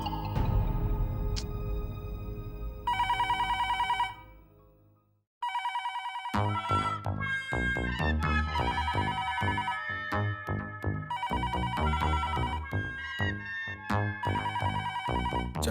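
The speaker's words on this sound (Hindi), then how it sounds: "मैं घर पे फोन लगा रहा हूँ, घंटी भी बज रही है" A home telephone rings on and off in repeated electronic bursts, with a short silent gap partway through, loud and close against no other sound, in an Indian sitcom household.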